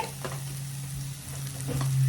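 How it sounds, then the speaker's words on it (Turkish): Broccoli and tortellini sauté in a pan with olive oil and butter, a steady close sizzle and crackle with occasional stirring scrapes and a low continuous hum underneath. "tavanın içine sıvı zeytinyağı e, brokollerimi ve tereyağını ilave ettim. Birazcık brokolleri kavurdum."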